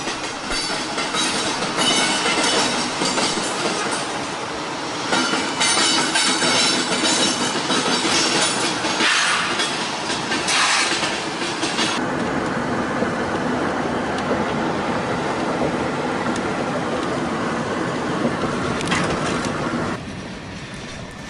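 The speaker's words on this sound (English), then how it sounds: "we caught the train's DPU crossing over the quad diamond" A loud freight train's rear locomotive rolls past close by over a four-way rail diamond crossing in Birmingham, Alabama, its wheels clattering and banging rhythmically over the joints, with occasional metallic squeals.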